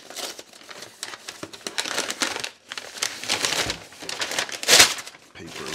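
Paper liner from a Russian military ration pack being crumpled and crinkled up close, a dense run of crackling bursts with brief pauses, loud and continuous throughout.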